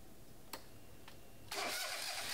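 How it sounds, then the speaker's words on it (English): A Mazda MX-V engine cranks with two short clicks, then catches and roars into a steady, loud running hum. "Now start the engine."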